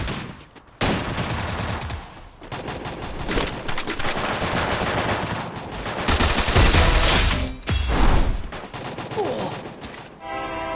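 Bursts of automatic gunfire in a shooter game arrive in several loud, dense volleys separated by short gaps, with a brief quieter stretch near the end.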